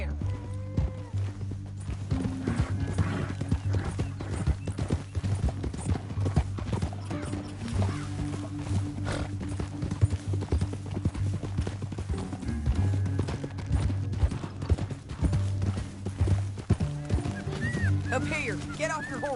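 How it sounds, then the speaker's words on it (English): Horses gallop in Red Dead Redemption 2, a steady stream of rhythmic hoofbeats with occasional whinnies, continuous and fairly close, under a background music bed and voices talking. "Up here, get off your horse."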